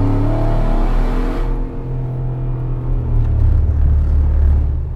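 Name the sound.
car accelerating hard on wet road, testing traction control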